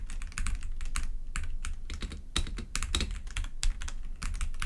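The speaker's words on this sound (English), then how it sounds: "This is me typing on a mechanical keyboard while I'm trying to speak into the microphone." A mechanical keyboard is typed on about eight inches from a microphone, a fast, uneven run of sharp, close clicks and clacks with brief pauses, heard alone without speech.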